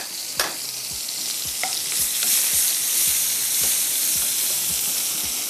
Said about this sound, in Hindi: हमारे जो लहसुन फ्राई हो रहा है